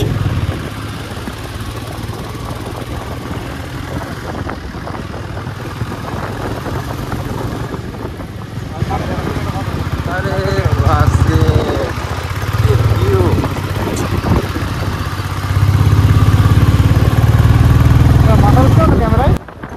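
A motorcycle rides along a hilly mountain road on the way from Siliguri to Darjeeling, its engine droning steadily and rising in places, with wind rush and a voice talking over it.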